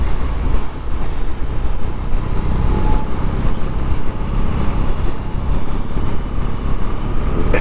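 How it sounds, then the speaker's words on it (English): BMW boxer-engine cruiser motorcycle riding along, a steady loud broadband engine and wind roar that holds constant throughout without pauses or voices. "I really love that boxer engine"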